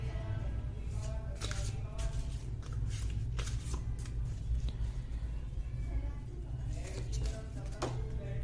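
Tarot cards are shuffled and drawn by hand, giving repeated close riffling and flicking bursts with soft, papery slaps between them, and a voice murmurs faintly in the background.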